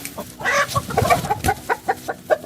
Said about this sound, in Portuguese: Linda essa galinha.